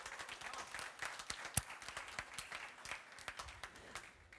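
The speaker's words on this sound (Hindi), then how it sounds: "तालियां सुननी चाहिए।" Applause from a studio audience greeting the Pathan brothers, cricketers, at an interview: light, scattered claps with a few sharp louder hits, fairly quiet and thin throughout.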